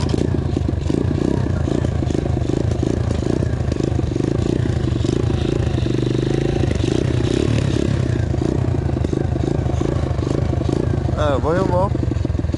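A dirt bike's engine, fresh from a renovation, runs loud and steady close by with a rough, throbbing idle and slight revving. A voice briefly speaks near the end.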